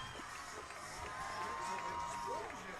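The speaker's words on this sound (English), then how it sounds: "The entire team out of the dugout, clapping and cheering" Softball players pour out of the dugout clapping and cheering after a two-run home run in a UCLA vs Iowa game, a steady crowd roar with whoops and shouts filling the whole stretch.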